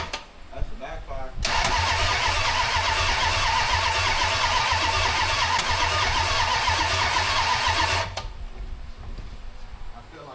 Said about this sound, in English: But that was a backfire.